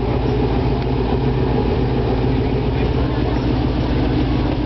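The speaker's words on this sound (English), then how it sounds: "So the engine's just been turned on." A Vauxhall VXR8's engine runs at a steady, loud idle just after start-up, a continuous deep low rumble that holds unchanged throughout, with faint background voices.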